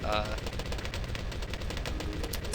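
Rapid, continuous dart-gun fire from a tier-3 Dartling Gun tower in the video game Bloons TD Battles, a dense rattling stream of shots running throughout, with a voice talking over it.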